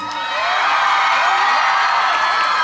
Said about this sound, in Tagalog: Pumalakpak po na may kasamang iyaw nagsasabing maganda po si Lassie.